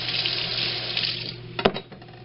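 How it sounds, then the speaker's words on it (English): Water runs steadily from a kitchen sink tap as a knife is rinsed under it, with a brief clatter near the end, close and fairly quiet, no talking. "Rinse our knife."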